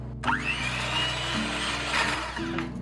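An electric mixer whipping egg whites with sugar at medium speed, a steady close mechanical whir with a constant buzzing hum and a slight rise in pitch, running alone without voices.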